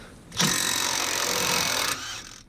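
A cordless impact wrench hammers on a 21mm brake caliper bracket bolt on a van, a loud, close, continuous rattling burst of about a second and a half that then drops off.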